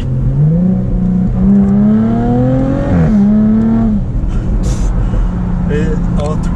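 A car with a supercharged V6 accelerates hard, engine pitch climbing steadily through a gear before a shift and a brief drop, then settling into a lower drone, with someone talking over it.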